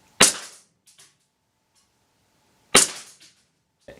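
Two sharp shots from an AW Custom HX23 Hi-Capa airsoft pistol firing 0.2 gram BBs, each a crisp pop with a short mechanical clack after it, spaced about two and a half seconds apart.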